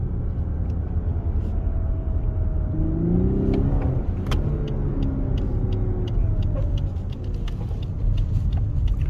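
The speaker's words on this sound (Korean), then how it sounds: "스포츠 플러스에서만 이렇게 과격한 엔진음을 일부러 고의로 넣어 놓은 것들이 이렇게 있습니다." A Lexus LS500h hybrid sedan in Sport Plus mode, its engine note deliberately enhanced, revs with a loud, continuous rumble that swells and climbs in pitch several times, heard close up and alone without voices.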